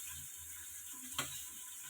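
Green chillies sizzle steadily in a hot pan with tomatoes going in, cooking for a chicken biryani; a faint, even frying hiss with a brief clatter near the middle.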